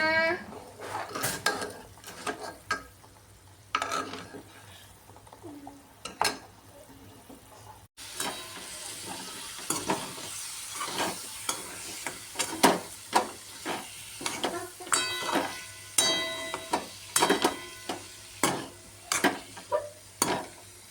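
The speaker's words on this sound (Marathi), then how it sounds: "तुम्हाला कढईचा खरखर वाजलेला आवाज येत असेल" A spoon stirs and scrapes around a kadhai of spicy mutton curry, repeated rhythmic metallic scrapes and clinks over a bubbling simmer, close up with no voices.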